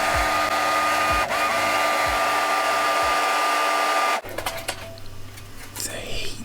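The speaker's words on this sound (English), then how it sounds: "We're going to do that using a hairdryer." A hairdryer runs on foam core to heat and lift away its paper facing, a loud steady blowing whine close by that cuts off abruptly partway through, followed by quieter handling noises.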